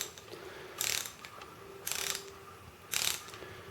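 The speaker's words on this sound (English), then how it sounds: "they have that very pronounced ratcheting sound to them" A socket wrench ratchet clicks through three separate bursts of rapid, crisp pawl ticking, each lasting about a quarter second with short pauses between them, close and distinct with no talking.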